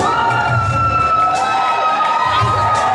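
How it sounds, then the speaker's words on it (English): A loud indoor wrestling crowd cheers and shouts at a Big Valley Wrestling show at Opportunity Village, a continuous roar of voices with high-pitched whoops and children yelling. "taking in the adulation of the crowd here"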